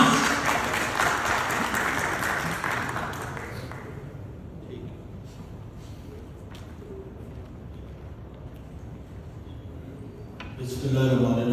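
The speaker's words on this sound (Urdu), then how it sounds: "آپ کی بہت ساری تالیوں میں میاں منیر خان۔" Audience applause at a Pakistan Social Centre event in Sharjah bursts out loud for several seconds, fades into quieter room sound, then swells again near the end.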